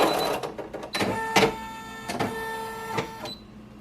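An embroidery machine powers on with a series of close clicks and clunks, then a few electronic beeps and whirring startup tones before it settles.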